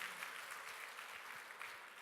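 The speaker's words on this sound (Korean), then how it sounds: "박수와 함께 영광합시다." A church congregation applauds during a sermon: faint, steady, even clapping from a distance that continues without a break.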